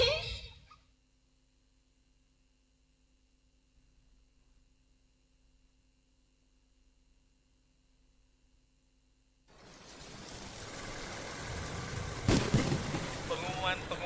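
Steady rain and rumbling thunder in a rainy-season disaster warning, starting suddenly after a long near-silent stretch and swelling loud toward the end with a sharp crack.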